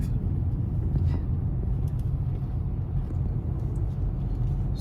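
A car pulling out of a busy car park in Oman, heard from inside as a loud, steady low engine and road rumble with no clear changes throughout.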